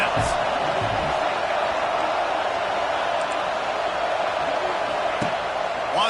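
Steady, loud stadium crowd roar during a Michigan versus Penn State football game as fans rally behind the defense on a big third down, a dense continuous wash of cheering with a few sharp slams.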